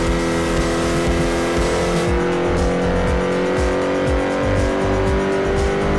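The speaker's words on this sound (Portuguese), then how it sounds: "Acelerando numa subida, o carro se esforça." A race car in Forza Motorsport 4, a Clubman division Class F car on a European tour, strains as it accelerates uphill. Its engine drones loud and steady with a sustained harmonic whine and rumbling low end, alone without talk.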